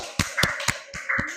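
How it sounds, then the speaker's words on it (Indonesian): A classroom of students claps for group 1: a few quick, uneven bursts of hand claps, close and fairly loud, with brief pauses between them. "Tepuk tangan buat kelompok 1"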